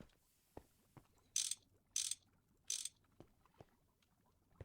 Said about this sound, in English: This will allow me to wrench all of these to the side here.